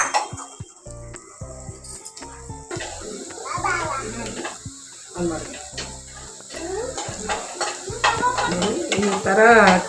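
Two chopped onions frying in oil for curry leaves chicken, sizzling and scraped with a spoon in the pan, while someone talks throughout and the frying grows louder toward the end.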